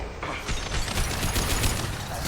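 Mass Effect 2 gunfire crackles in a rapid, loud fusillade of close shots that runs continuously through the short burst.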